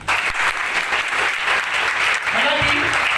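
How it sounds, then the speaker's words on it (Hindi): Loud, vigorous applause from a seated audience at a talk, dense clapping sustained throughout with some voices and cheering rising toward the end. "एक जोरदार तालियां।"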